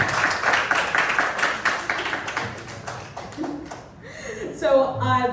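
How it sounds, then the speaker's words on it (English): Audience applause at a sold-out live interview show during New York Tech Week: brisk clapping from a crowd for a few seconds that fades out and gives way to a person speaking. "I'd love like a round of applause for a moment"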